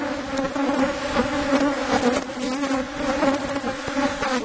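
Dense swarm of honey bees buzzing steadily around an open, strong hive during an inspection of stacked boxes, a continuous close droning hum with no voices.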